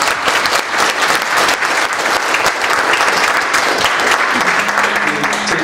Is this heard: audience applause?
yes